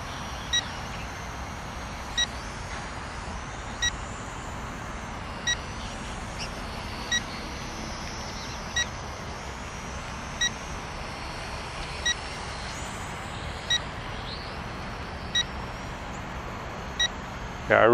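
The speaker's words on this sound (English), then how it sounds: "I really don't know why the transmitter is beeping at me." Short, high electronic beeps from an FPV drone transmitter repeat at an even pace about every second and a half, sounding steadily over a low background hum.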